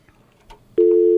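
A telephone busy signal sounds on a radio call-in line after a caller drops. A moment of near quiet gives way to a loud, steady electronic tone that fills the rest of the clip.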